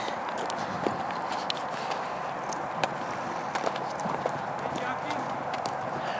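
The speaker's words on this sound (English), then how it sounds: "Clydesdale gelding." A Clydesdale gelding's hooves clip-clopping on the ground, a steady walking rhythm of sharp taps over a broad outdoor hiss, moderately near.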